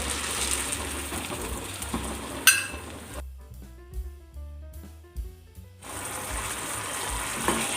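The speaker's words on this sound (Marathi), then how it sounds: "आता आपण हे पाणी यामध्ये मिक्स करून घेऊयात" Hot water poured and stirred into a cashew and coconut paste makes splashing, gushing water sounds with a quieter pause in the middle.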